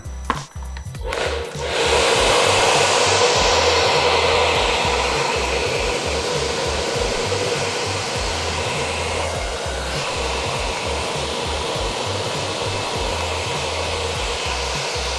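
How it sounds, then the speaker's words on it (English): A hair dryer switches on after a brief rustle and then blows continuously, a loud steady whooshing roar with a low motor hum. "I just simply rotated the dryer a little bit more."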